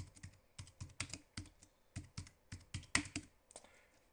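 Card details being typed on a computer keyboard in crisp, close, evenly spaced keystrokes with brief pauses, no talking.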